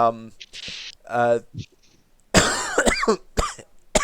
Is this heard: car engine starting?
no